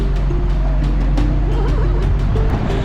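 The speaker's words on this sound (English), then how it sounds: "This truck is loud." Loud truck engine drones steadily while driving in a tropical seaside setting, a continuous low rumble with rattling, filling the whole stretch close up.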